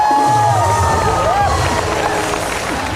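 Studio audience on a cricket show cheering and clapping for a guest, a loud dense roar of crowd voices and claps with whistle-like tones sliding above it, close and continuous.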